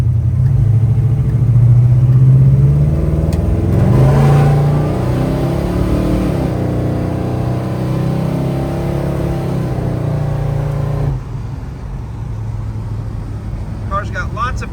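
A 1966 Chevrolet Chevelle SS 396 V8 accelerates hard, its deep engine rumble climbing in pitch through the revs before easing off into a lower cruise. It is heard from close up inside the car, with a voice talking over it.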